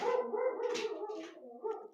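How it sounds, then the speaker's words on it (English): A dog gives a few soft, close woofs and whimpery yips in a quiet room, fairly faint and heard alone without talk. "I don't know what he's barking at."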